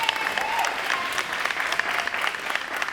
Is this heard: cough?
no